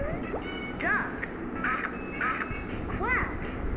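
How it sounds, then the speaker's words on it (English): A duck quacks in a few short bursts, close and clear over a steady background hiss, in a children's lesson on animals and their sounds. "A duck makes a quack sound."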